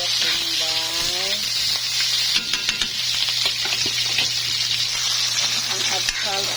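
Garlic and onion sauté in a pan for a mixed seafood dish, giving a strong continuous sizzle with occasional clicks, over a steady low hum and some faint tonal background sounds.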